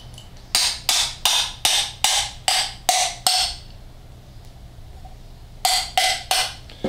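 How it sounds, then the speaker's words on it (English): Metal tapping drives a guide sleeve to seat a water pump on an Ecotec engine, with a run of eight evenly spaced sharp knocks, a pause, then four more, close and loud over a low hum. "There's a sleeve here that acts as a guide that you'll have to tap that down with."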